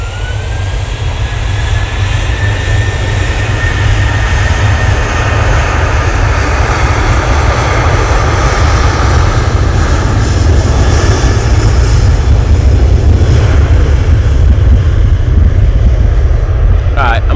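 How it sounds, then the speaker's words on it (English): Boeing 737-800 at Manchester Airport, a loud continuous jet engine roar with a rising whine, close and steady throughout, heavily saturated and swamping everything else. "This 737-800."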